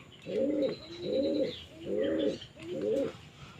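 Pet pigeons cooing nearby, four rhythmic low rolling coos in a row with faint chirps in the background, no talking.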